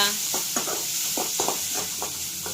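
Onions frying in oil in a kadai, giving a steady hiss under a series of rhythmic spatula scrapes and stirs, close and with nobody speaking.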